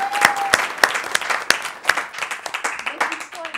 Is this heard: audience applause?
yes